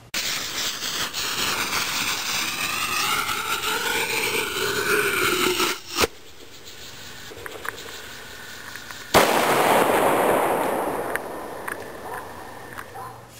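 Fireworks aerial shells bursting in the sky, with loud crackling and popping bursts, a sharp boom near the middle and a bright blast followed by a fizzing, crackling tail, continuous noise throughout.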